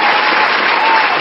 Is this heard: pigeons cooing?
no